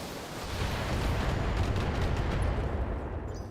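Mech weapons fire during a BattleTech match, producing a heavy, continuous roaring rumble of blasts that swells and holds for a few seconds at close, loud range.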